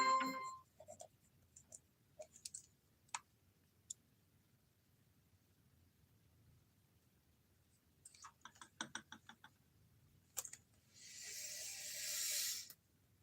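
Handwriting on paper with a pen, scattered short scratchy strokes separated by quiet pauses, then a cluster of quick strokes and a longer rough scratching near the end.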